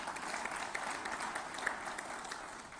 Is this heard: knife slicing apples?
no